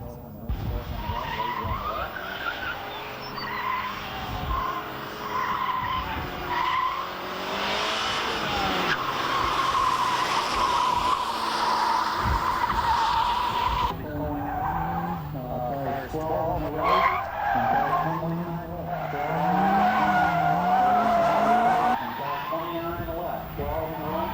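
A Toyota All-Trac and a Plymouth Laser race in a 1989 One Lap of America duel, engines revving loudly with tires squealing and skidding through hard maneuvers, under continuous commentary from a male announcer.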